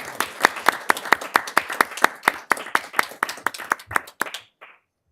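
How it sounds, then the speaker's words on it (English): Steady rhythmic clapping from a modest group at a city council meeting, roughly even beats for about four seconds before quickly tapering off into silence. "join me in a round of applause for her time here with the city"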